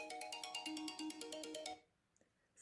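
A phone ringtone plays a rapid repeating electronic melody for nearly two seconds from an incoming call, then stops abruptly into near silence.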